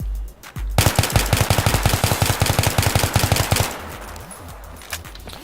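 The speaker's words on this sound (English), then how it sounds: "So now we're going to use burst fire while using the heavy barrel, not controlling any recoil at all," Rapid bursts from an M16A3 rifle fitted with a heavy barrel in a video game, a dense run of loud, closely spaced shots for about three seconds, then quieter clatter and faint movement sounds.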